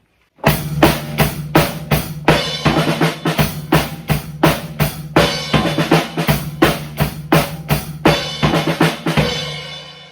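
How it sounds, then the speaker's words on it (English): A fast, driving drum groove at full speed, repeating steadily for several bars, closing with a rapid fill, loud and up close with no talking. "here's what it would sound like at full speed"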